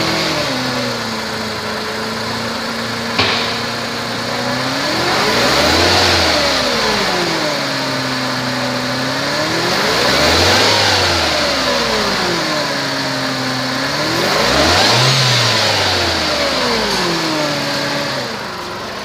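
A 2002 Mercedes-Benz C230 Kompressor with about 151,000 miles runs at a steady idle and is revved three times, each rise swelling and falling back smoothly, close and clear with no talk.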